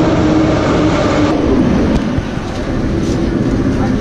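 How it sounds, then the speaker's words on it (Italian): Russian underground metro train running through a tunnel, a loud, steady rumble and rattle of wheels and cars that holds constant throughout, with faint voices mixed underneath. "Giuro che non ho mai visto una metro così lunga come questa."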